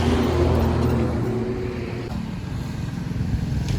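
A car pulls up nearby, its engine a loud close rumble that eases off toward an idle, with no talk over it.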